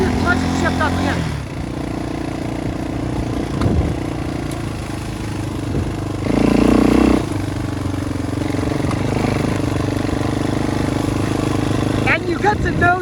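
A motorcycle engine climbs in revs, drops as the clutch is pulled for an upshift, then pulls again, steady and close throughout with a brief louder surge midway.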